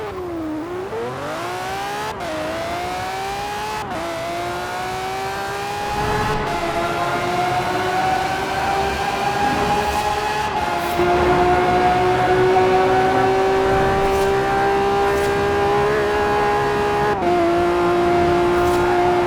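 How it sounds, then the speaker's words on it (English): A V12 car engine in Forza Horizon 4 revs hard and climbs through the gears, a loud sustained scream rising in pitch with brief dips at each shift across the whole stretch. "another awesome V12 that screams when you give it the beans"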